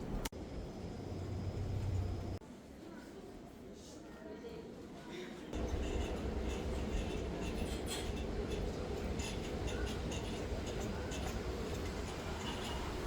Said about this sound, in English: I preferred to use the metro.